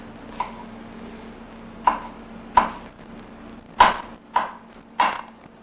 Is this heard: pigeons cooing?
no